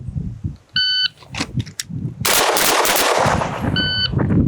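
Pistol gunshots during an FBI pistol qualification stage, with an electronic shot timer beeping at the start and again near the end, and a dense burst of loud close-range shots filling the middle.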